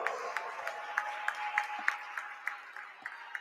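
A girls varsity basketball senior night crowd applauding senior players, a steady ragged clapping with sharp individual claps standing out, moderately distant in a gym with a faint steady tone underneath.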